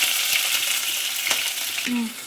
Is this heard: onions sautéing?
yes